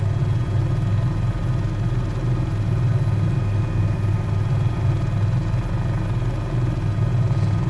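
Steady, loud rotor and turbine drone from a CowanSim H130 helicopter in flight in Microsoft Flight Simulator, a constant deep rumble running unbroken throughout with no voices.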